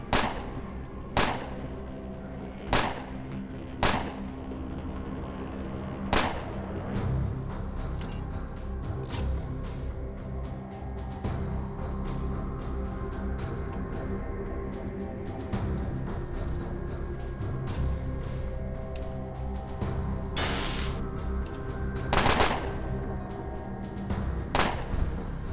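Gunfire in the post-apocalyptic RPG Underrail rings out as sharp, spaced cracks over a long stretch, a few isolated shots early, then a quicker pair near the end, over a low droning game score.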